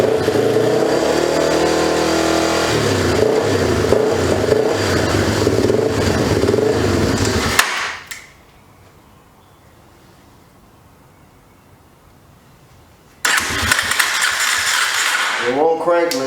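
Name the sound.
2004 Yamaha TTR 250 motorcycle engine revving and idling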